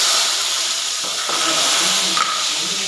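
Sliced onions sizzle in hot oil after fennel and fenugreek have been tempered, a loud, steady, close hiss that fills the whole moment, with faint clinks and stirring underneath.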